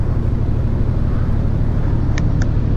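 A car engine in the Roblox video game drones in a steady, loud low hum with a couple of short higher tones near the end.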